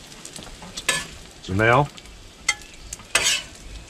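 Food fries and sizzles in a pan as it is stirred, with scraping strokes and bursts of frying noise over a steady sizzle. Someone briefly speaks and there is a short vocal sound.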